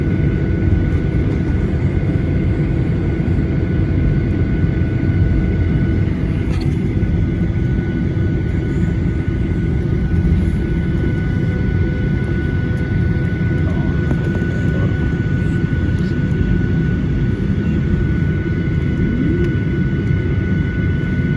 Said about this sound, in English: we take off out of Chicago O Hare International Airport on our way to Dallas-Fort Worth